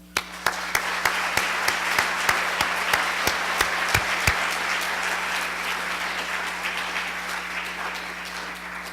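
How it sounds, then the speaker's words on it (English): Audience applause at an evening ceremony honoring local legends, starting with a few sharp claps and swelling into steady, fairly dense clapping from a seated crowd with a low hum beneath, continuing evenly without voices. "please join me in a round of applause for their hard work"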